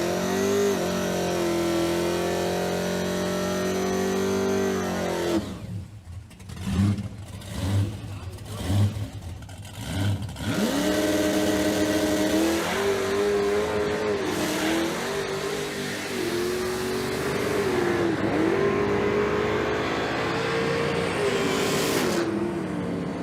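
A muscle car launches on a quarter-mile drag strip, its engine roaring and revving hard with rising pitch, briefly stuttering as the tires spin, then pulling loud and steady close by throughout.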